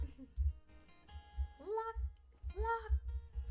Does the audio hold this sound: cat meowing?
yes